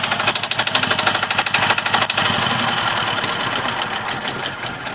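Small Petter mini diesel engine running aboard a boat, a close, rapid knocking chug that is choppier at first and then settles into a steady, even thrum.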